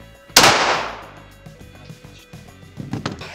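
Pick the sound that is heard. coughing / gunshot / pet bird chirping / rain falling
gunshot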